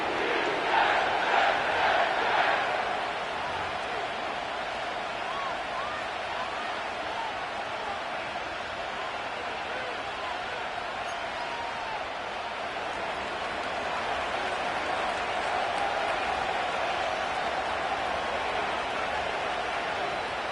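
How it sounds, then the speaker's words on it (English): A big stadium crowd roars and cheers steadily inside MetLife Stadium in the Madden football video game, a dense continuous wash of voices with a slightly louder swell at the start. "The crowd is definitely ready."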